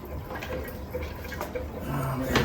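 Water poured into an outboard motor test tank beside a 1970 85hp Evinrude with hydroelectric shift, a steady close splashing trickle over a low background.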